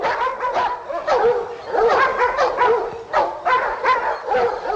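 Several dogs bark and yip in rapid overlapping bursts, loud and close, with whimpering yelps between volleys and no talk over them, in a 1952 period film set during the Haitian Revolution.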